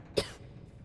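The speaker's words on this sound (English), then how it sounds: "The cough doesn't sound good." A single short cough from a game character in Starfield, sharp and close at the start, then fading quickly over faint background ambience.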